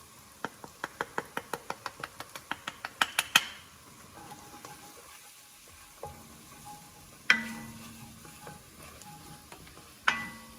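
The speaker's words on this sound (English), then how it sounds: "Just slowly mix it in slowly." Flour is stirred into mushroom soup in a pot, with a fast run of sharp spoon taps against the rim, then a few louder scattered clanks and scrapes over a faint sizzle, close and without talk.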